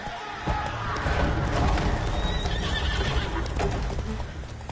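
A horse in The Witcher 3 video game neighs while its hooves clip-clop at a gallop, steady and fairly loud over a busy game soundscape with no talking.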